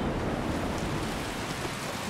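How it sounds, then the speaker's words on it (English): A thunderstorm in the video game Skyrim rumbles as a steady, dense roar of rain and low thunder, loud and unbroken throughout with no voices. "thunder and lightning as well, because of course there is"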